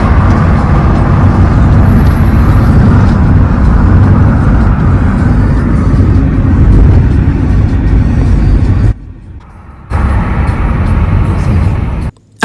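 A car driving fast on a nearly empty highway, with a loud, sustained roar of engine and road noise heard close up that drops away abruptly near the end.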